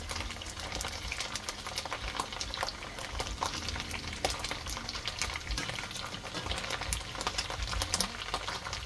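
Meatballs frying in a pan with onions for spaghetti in tomato sauce, a dense, steady sizzle with sharp spitting pops scattered throughout, close and fairly loud, no voices.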